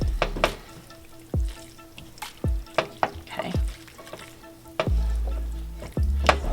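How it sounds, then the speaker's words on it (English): Radish cake mixture being stirred in a bowl: a series of close, wet scraping and sloshing strokes at an uneven rhythm, with sharper clinks of the utensil against the bowl, no talk. "So now we're just gonna mix it around, mix it up."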